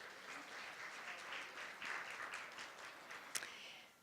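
Quiet, steady applause from an audience of women at a university philanthropy symposium, heard from some distance at low level, with one sharper clap near the end.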